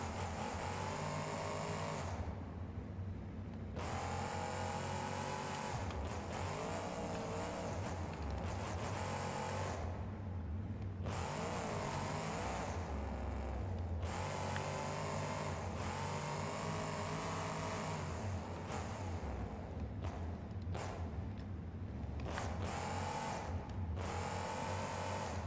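A monster truck engine roars in a BeamNG video game freestyle run, loud and continuous with repeated surges, and it cuts to near silence whenever the throttle is released because the truck has no idle sound.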